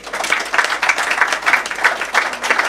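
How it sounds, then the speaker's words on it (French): Audience applause at a hotel inauguration speech in Saint-Louis, a lively, close clapping crowd with a loosely rhythmic pulse running throughout. "Je voudrais qu'on puisse l'applaudir."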